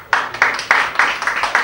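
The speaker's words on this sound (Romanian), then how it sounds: "Încă o dată aplauze pentru invitata noastră" Studio audience on a Romanian TV entertainment show applauding a guest, a dense run of clapping with repeated rhythmic surges, fairly close and steady for under two seconds.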